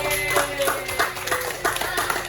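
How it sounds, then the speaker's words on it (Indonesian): A class of seventh-grade students clapping their hands together in a classroom, a brief burst of steady, close, layered claps mixed with faint voices and cheering. "Tepuk tangan dulu."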